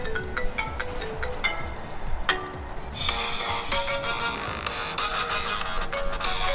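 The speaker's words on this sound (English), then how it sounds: "you want to hear how fire my ringtone is?" A bright electronic ringtone melody plays loudly with sharp repeating tones, steady and close, over faint background noise.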